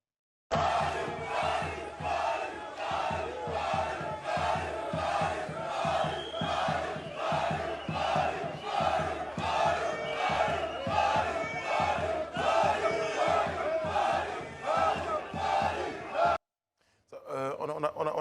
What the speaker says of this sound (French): Ils sont rentrés avec les acclamations de quelques supporters